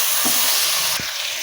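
Tomatoes fry loudly in oil left over from frying dried fish, giving a dense, bright, continuous sizzle with a couple of short thuds as the pan is stirred.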